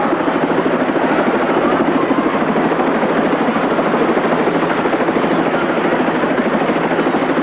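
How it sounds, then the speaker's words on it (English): Helicopter rotor thumping steadily and loudly at close range, a continuous rapid chop with engine whine and no voices, from a 1979 television special. "Bob is now connecting Bill's ice skates to the helicopter cable"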